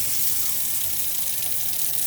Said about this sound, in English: you're going to need to come over to every tap and open them all up on the hot side of the water system